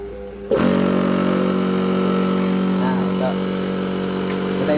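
Air compressor running steadily while refilling a PCP air rifle at a service workshop in Banjarmasin, a loud constant motor drone that kicks in abruptly and holds at an even level, with someone speaking over it.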